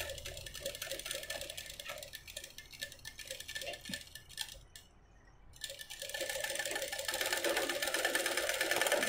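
A sewing machine runs in a steady, continuous whir as it stitches piping onto the edge of a blouse backed with canvas paper, pausing briefly midway and then resuming louder, with no talking.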